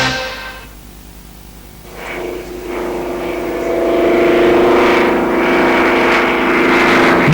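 An Avid light aircraft flying low and slow, its engine droning steadily and growing louder as it passes nearby, with a continuous tonal hum that holds throughout.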